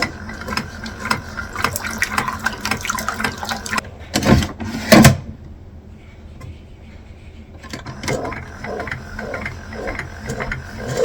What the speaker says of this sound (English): With the clean cold water, run it through a few cycles.